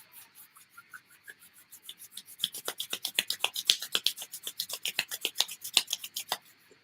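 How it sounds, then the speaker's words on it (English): Hands rub together briskly during a Reiki meditation, starting as soft slow strokes and then turning into a fast, even run of rasping swishes, close and clear with no talk. "rubbing your hands together to create friction"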